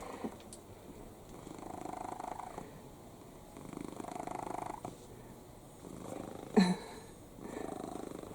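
A tired cat resting in a kitchen garden purrs in slow, rhythmic waves, soft and close, with a brief louder snort-like burst near the end.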